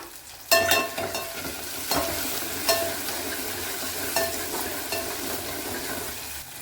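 Tomato and masala sauté in a pan for fish curry, with a steady close sizzle and frying crackle. A utensil stirs and taps against the pan now and then. No one talks.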